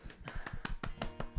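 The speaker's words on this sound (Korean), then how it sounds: "박수" Hands clapping in applause for a church worship team at a Monday prayer meeting, a run of sharp, fairly close claps with uneven rhythm through the whole stretch.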